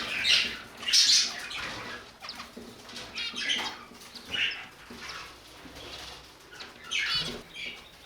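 Budgerigar chicks chirp and squawk in a bird room during feeding, with bursts of high, scratchy calls and brief wing flaps coming in clusters, fairly close, over low room noise.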